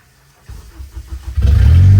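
A car engine cranks and catches on the first try, then revs up loud and close, its rumble building steadily over a couple of seconds.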